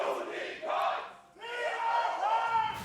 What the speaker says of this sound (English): the game the audience is playing right now, which is who can cheer louder.